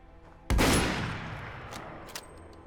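A single loud gunshot in the Fallout: London video game, followed by a long fading echo and a couple of faint later pops.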